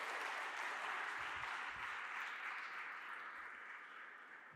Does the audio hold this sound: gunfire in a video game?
no